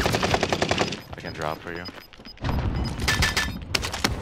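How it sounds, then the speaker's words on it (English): Gunfire in Call of Duty Warzone, Fortune's Keep map: bursts of rapid automatic shots, loud and close, broken by a brief lull, while players talk over the action. "Gunshot!"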